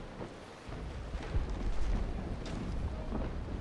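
Cannon fire from a brig's port-side broadside in the Naval Action naval battle game, heard as a few low booms over a rumbling sea-and-wind backdrop, moderately loud with no talk.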